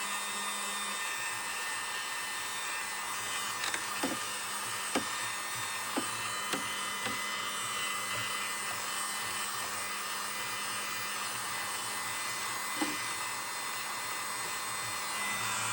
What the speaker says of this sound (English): gently vacuum out certain areas.